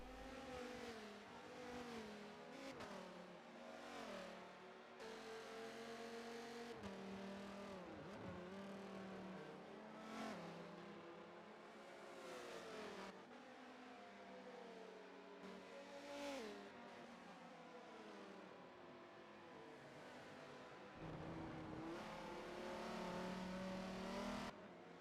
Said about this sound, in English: listening to that wonderful V10